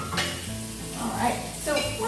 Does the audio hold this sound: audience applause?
no